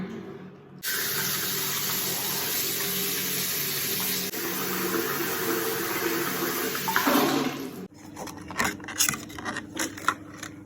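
Tap water runs steadily for several seconds while a face is washed with foaming cleanser, then gives way to irregular close splashes and drips as the face is rinsed.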